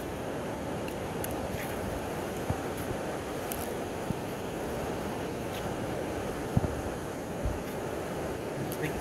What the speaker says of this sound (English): This wind's blowing up my headphone, I can't hear it.